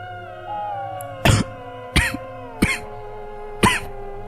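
A man coughs four times in a row, loud and close, each harsh cough separated by about a second, over a steady low droning background in a horror narration.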